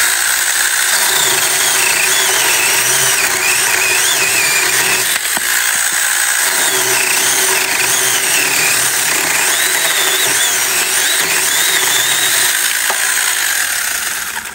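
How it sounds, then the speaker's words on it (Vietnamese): A chainsaw saws through a tree branch thicker than a wrist, its engine running loud and steady for the whole stretch, with a brief dip in the middle of the cut. "cái hiệu quả của cái cưa xích này ha, rất là gọn gàng mà rất là khỏe nha"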